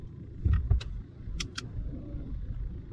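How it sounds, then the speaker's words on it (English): Short whirring and clicking bursts from the electric parking brake motor of a 2019-2024 Honda HR-V with a parking brake fault, close by, with a couple of faint high clicks and no speech. "You can hear it, the sound that the motor is working"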